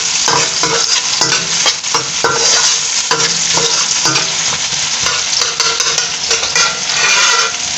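Chopped onions sautéing in hot oil for a Mandi rice dish, a steady loud sizzle and crackle with repeated scraping and stirring of a utensil against the pan, no talking.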